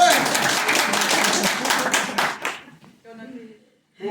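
A live comedy audience claps together as a show-of-hands vote, a dense burst of applause lasting about two and a half seconds before thinning out into a few scattered claps and quiet voices.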